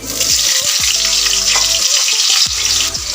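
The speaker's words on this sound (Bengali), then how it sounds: "এখন টুকরো করে রাখা আলুগুলো আমি ভেজে নেব" Potato pieces fry in hot oil with a loud, close, continuous sizzle and bursts of bubbling crackle, with no talking.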